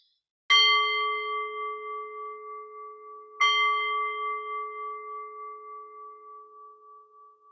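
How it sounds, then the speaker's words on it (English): A meditation bell is struck twice, about three seconds apart, each strike giving a clear, bright ring that hangs in a long, slowly fading tone against silence. "Need to ring the bell to make the shift here."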